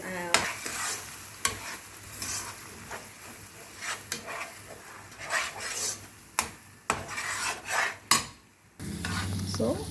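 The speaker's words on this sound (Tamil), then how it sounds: "இப்போ நான் முட்டையை இதில் ஆட் பண்ணுறேன். Without beating" Unbeaten egg stir-fried with noodles in a pan, heard as a continuous sizzle beneath repeated scraping and tossing of a spatula, with sharp close clacks and rasps at irregular intervals.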